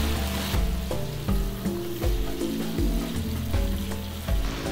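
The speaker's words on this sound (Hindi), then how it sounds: "अब हम इसके अंदर डाल देंगे 700 ग्राम चिकन और चिकन को हम भूनेंगे पिंक से वाइट होने तक" About 700 grams of chicken fries in a pot with garlic and ginger for restaurant-style korma, a loud, close, continuous sizzle broken by regular scraping stirs, with no one talking.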